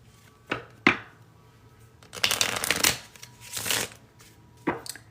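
A deck of tarot cards is shuffled in several quick riffling bursts with short pauses between them, close and fairly quiet, with no talking.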